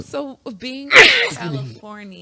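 A person sneezes once, loud and close, in the middle of a podcast conversation, with people talking just before and after it.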